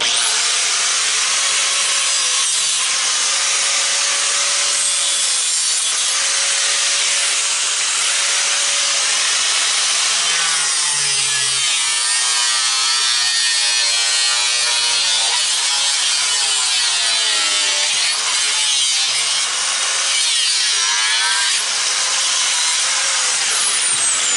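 A grinder tears apart an old electric weed eater being scrapped, producing a loud, continuous harsh grinding hiss that shifts in pitch as it bites into the housing and runs for the whole stretch.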